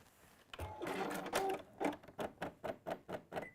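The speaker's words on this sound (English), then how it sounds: "What's going on for you, Mr. Sewing Machine?" Domestic sewing machine jamming partway through a seam, a steady whirring run that breaks into a series of evenly spaced stuttering thumps as the needle struggles, close and fairly quiet.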